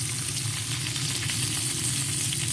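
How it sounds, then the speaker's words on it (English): Chicken frying in a hot pan gives off a close, continuous crackling sizzle with fine popping spatters, steady and even throughout with no talking. "Love that sound of the sizzle."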